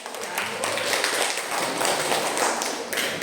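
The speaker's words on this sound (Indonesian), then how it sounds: "tepuk tangan buat kelompok" Classroom applause for a presenting group of students: continuous, moderately loud clapping from many hands throughout, with no one talking.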